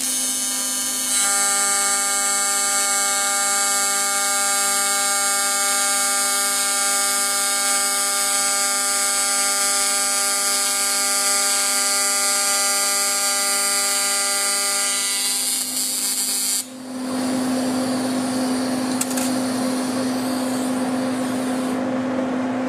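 TIG welding on aluminum at 200 hertz AC and unchanged amperage gives a steady, loud, tonal buzz with a strong harmonic whine that runs without a break for about seventeen seconds, then drops to a lower single hum with hiss.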